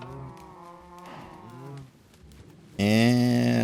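Minecraft cows mooing in a breeding pen, several drawn-out harmonic moos in a row, with the loudest and nearest call bursting in at the end.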